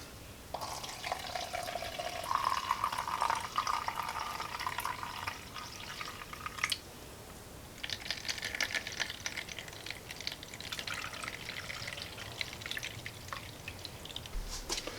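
Liquid pours and trickles through a coffee filter set in a funnel, a soft steady splashing that pauses briefly midway and resumes, fairly quiet and close.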